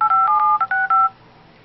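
Rapid series of touch-tone dialing beeps from an Android phone placing a call, five or six short dual-tone presses in quick succession, close and clear, then quiet.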